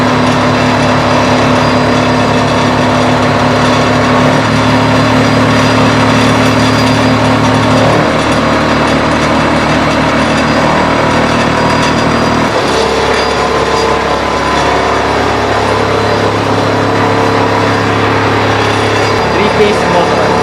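A three-phase electric motor runs continuously with a loud, steady hum and mechanical rattling, its pitch shifting a few times, while people talk over it.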